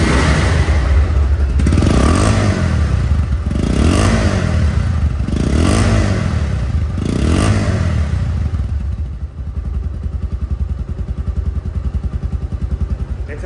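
A second-hand motorcycle engine idles and is revved several times in rhythmic surges before settling into a steady, close, loud chugging idle.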